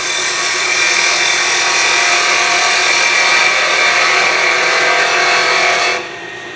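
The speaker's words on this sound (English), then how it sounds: "if I come in with the parting tool, that top piece is going to be all torn up" A parting tool cuts into softwood spinning on a lathe, a loud, steady, raspy whir that holds for about six seconds, then drops off as the tool lifts away and the lathe keeps running more quietly.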